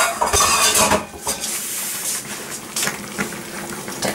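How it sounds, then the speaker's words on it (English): A lid comes off a pot of boiled carrots with close metallic clanks and clatter, followed by scattered lighter knocks and a soft watery hiss, with no talking. "I'm going to take the lid off."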